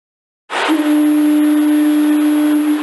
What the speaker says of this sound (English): the foghorn at the Boston Lighthouse will give off 1 horn blast every 30 seconds